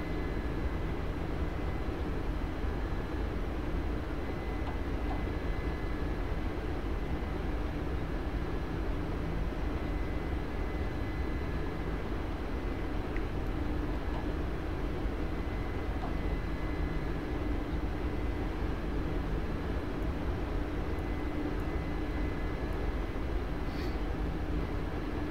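Helicopter flying in the DCS combat flight simulator, a steady droning engine and rotor hum held at an even level throughout, with a faint tonal whine on top.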